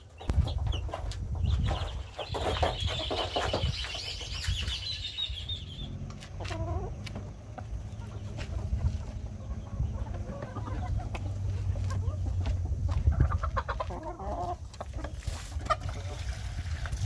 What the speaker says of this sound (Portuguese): E aqui já tem as galinhas que estão trabalhando.